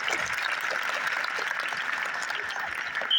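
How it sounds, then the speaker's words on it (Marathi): An indoor audience applauds loudly, a dense and continuous wash of clapping that holds steady for a few seconds. "जोरदार टाळ्या वाजवा एकदा त्यांच्यासाठी."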